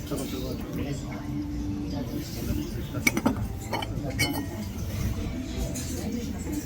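Ceramic mugs clink as they are handled on a shop shelf, a few light knocks clustered in the middle, heard over steady store background noise with some talk.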